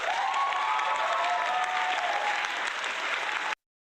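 Canned applause fired from a stream deck: a dense burst of clapping and crowd noise, loud and steady for about three and a half seconds, then cutting off abruptly into silence.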